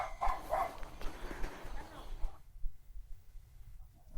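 A dog ahead on a road during a trip from Munnar to Alleppey gives a few brief yaps in the first seconds before everything drops to near silence.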